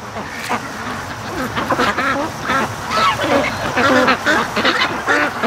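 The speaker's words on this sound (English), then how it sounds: "The brutal duck rush home" A flock of farm ducks quacks busily and continuously as they hurry home across the yard from the swamp, many overlapping calls close by with no gaps.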